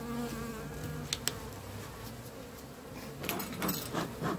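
Honeybees buzzing steadily at an open hive during colony work, a dense continuous hum close by, with a few faint clicks and knocks from handling the frames and a slight swell toward the end.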